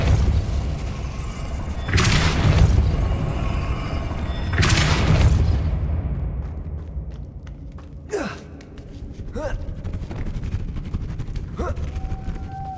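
A Depulso spell in the video game Hogwarts Legacy lets out two heavy whooshing blasts over a steady game ambience, followed by fainter impacts and grunts.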